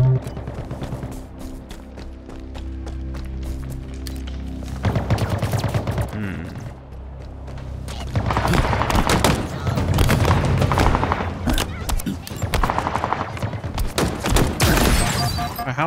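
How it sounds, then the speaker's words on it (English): Gunfire in Halo Infinite, bursts of shots and explosive booms rattling through a busy firefight over a bed of game music, with a quieter stretch midway before the shooting picks up again. "How is he shooting at me?"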